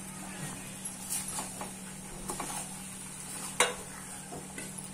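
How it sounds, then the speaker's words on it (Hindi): Pasta stirred into a pan of milky tomato sauce gives soft, faint scraping and shuffling strokes, with a sharper clink of utensil against pan near the end. "अब इसमें पास्ता ऐड करेंगे"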